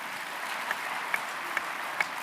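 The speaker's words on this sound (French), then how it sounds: "je crois qu'on peut l'applaudir." Scattered audience applause at a French agricultural cooperative congress, a steady wash of clapping heard from a distance and fairly faint, with a few sharper claps standing out.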